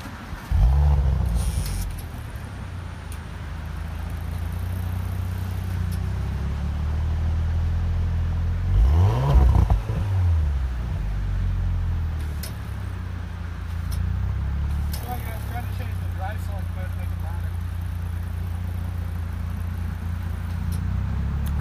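A 2018 Audi S5 engine heard from behind the car, idling with a deep steady rumble, then a sharp rev around the middle before settling back to a burbling idle; no talk.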